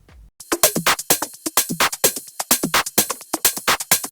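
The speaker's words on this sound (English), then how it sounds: "So right now our drums sound like this." A tech house drum loop plays alone, built from punchy kicks and crisp hi-hat and percussion hits in a steady, driving dance rhythm, loud and close throughout.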